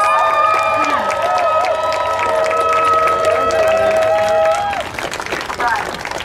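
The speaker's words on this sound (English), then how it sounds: "Let's give some applause," A crowd at an outdoor rally applauding and cheering, with dense clapping and whoops under steady tonal sounds, then thinning into scattered claps and murmuring voices.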